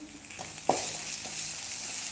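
Fresh coriander leaves go into a hot, sizzling tempering for dal: a sharp burst of close sizzle flares up and then settles into a steady, soft frying hiss.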